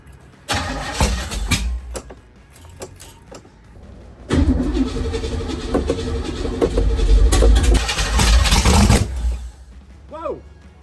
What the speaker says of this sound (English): I want to hear the raw power of this small block Chevy.